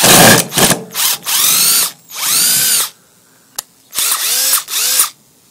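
Kobalt 18-volt lithium-ion cordless drill backing out bent screws: several separate whirring bursts of rising and falling motor pitch with a ratcheting edge, loud and close, broken by short pauses and a sharp click.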